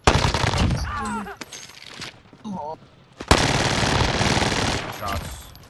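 Gunfire in Call of Duty Warzone (Cold War era), a few sharp shots and one loud close crack amid game sounds, with brief bursts of chatter and ambient noise between.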